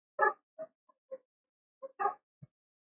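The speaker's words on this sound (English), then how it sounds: "Oh my god, dogs are barking." Several short, separate dog barks ring out nearby in an otherwise quiet room, with gaps between them and one yip-like bark at the end.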